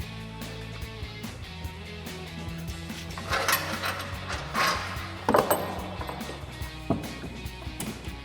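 Removing the final bolts from a RAM 2500 HD front bumper: scattered metallic clinks, ratchet clicks and scraping handling noises, with louder knocks and rattles as parts come loose, no talking.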